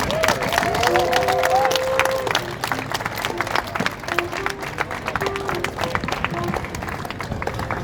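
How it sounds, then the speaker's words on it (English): A festival crowd applauds poets at a Black Culture Festival performance, dense clapping and some cheering, loudest in the first couple of seconds then thinning out, with a voice speaking over the tail. "Round of applause for the poets."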